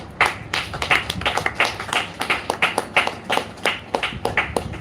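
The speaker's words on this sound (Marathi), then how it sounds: "टाळ्या वाजवा" A group of people clapping their hands in rhythm during a music therapy session, a steady run of close, sharp claps that rises and falls in strength throughout.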